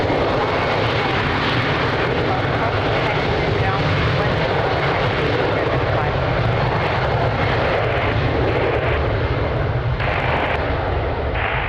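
A fixed-wing airliner takes off from runway 02 at Lisbon Airport on a windy day, its engines a loud, continuous broadband roar that holds steady throughout, with radio chatter faintly mixed in.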